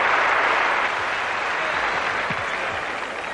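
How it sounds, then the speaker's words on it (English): A stadium crowd at the 1982 Commonwealth Games applauds a decathlete after a long jump, sustained dense clapping from a large audience heard at a distance and slowly fading. "the crowd appreciating this superb athlete"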